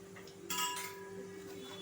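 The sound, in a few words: kadhai pan placed on the stove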